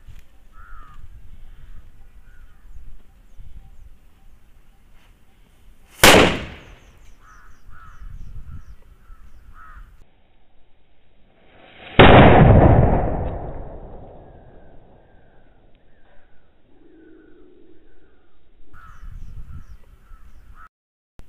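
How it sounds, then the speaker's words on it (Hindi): A Diwali firecracker goes off with a sharp bang, then a second, bigger blast roars and fades over several seconds, loud and nearby amid quiet outdoor surroundings with scattered crow caws. "पिछला वाला छोटा था पर बड़ा धमाका हुआ।"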